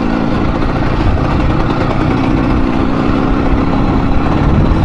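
The engine of an IZh Planeta Sport motorcycle fitted with a PWK 34 carburetor idles close by. The steady, loud, throbbing rumble holds an even rhythm for five seconds with no voices.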